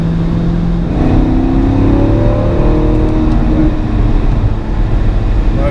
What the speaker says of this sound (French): Là, c'est un moteur qui chante celui-là.